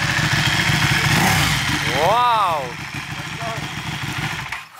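A Ducati Panigale Superleggera motorcycle engine revs loudly nearby, with a sharp rising-and-falling rev over a steady rumble, while excited voices talk over it.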